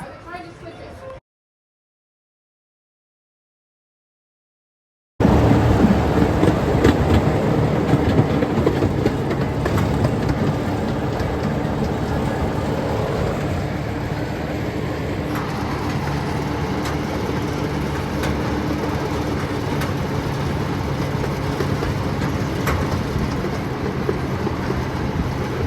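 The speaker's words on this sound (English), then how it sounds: "now we're going on the Timbertown Railway" After a brief silence, an amusement park train ride at Michigan's Adventure rumbles on with rattling rails and faint clicks, and people talk now and then over the constant noise.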